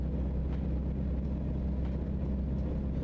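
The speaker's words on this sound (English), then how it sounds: "there's constantly a loud engine playing in the background" A steady, low truck engine drone in the video game American Truck Simulator runs continuously, loud and unbroken, with faint higher clicks now and then.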